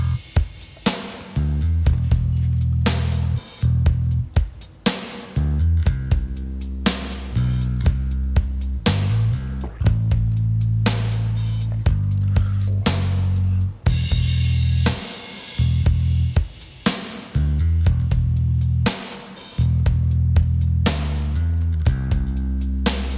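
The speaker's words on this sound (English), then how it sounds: "And this part of the bass sound like this." Bass guitar plays a heavy, rhythmic part in a metal song mix, with thick low notes in chugging, stop-start patterns alongside drums, loud and continuous throughout.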